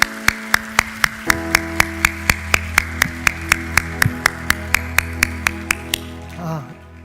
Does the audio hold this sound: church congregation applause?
yes